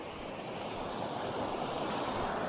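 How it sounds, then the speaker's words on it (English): A river on Dartmoor runs beside a wild camp spot, giving a steady, close rushing wash of water that stays even and unbroken, with no voices. "The river's right here, although it's not the easiest to get down to"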